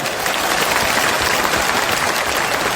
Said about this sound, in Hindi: ताली जोर से बजा दें, जोर से ताली बजाएं।